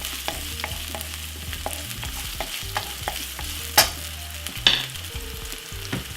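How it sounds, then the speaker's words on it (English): Spring onion stir-frying in a frying pan over medium heat, a steady close sizzle with repeated scraping and tapping from the stirring utensil and two brief sharper clatters, no voices. "Give it a quick stir."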